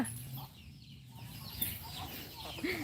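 Hens clucking nearby in short, irregular calls over a steady outdoor background, with a few higher squawks.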